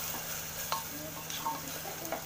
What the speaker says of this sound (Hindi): 1 टमाटर, 1 थोड़ा सा लाल मिर्च पाउडर डाल देना है। अच्छे से भून लेना है।